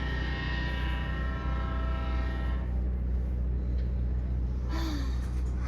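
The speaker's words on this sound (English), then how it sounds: "Got other trains pulling out of the station." Trains pull out of the station at a train show at Spencer Shops, giving a steady, low, rumbling roll throughout. A brief rising tone sounds near the end, and no voices are heard.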